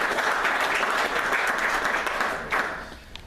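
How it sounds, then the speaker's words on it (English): Dense applause from an audience at an industry data gathering meeting, a steady wash of many hands clapping that holds for about two and a half seconds before tapering off. "if you could give him a big round of applause."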